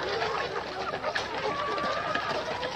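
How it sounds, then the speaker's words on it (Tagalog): Ready-to-lay chickens feeding in a backyard farm flock of about 200 birds, giving a dense, continuous bed of clucking, scratching and soft calls close by, with occasional sharper squawks and no talk over it. "RTL o Ready to Lay Chicken, mga paitluging manok. At kasalukuyan silang kumakain."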